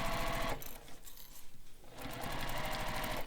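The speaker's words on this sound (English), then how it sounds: "just stitch directly on top of the line you drew" A sewing machine stitching a seam on a bag runs close and steady with a rapid mechanical whirr, briefly slowing and dipping in the middle before running again.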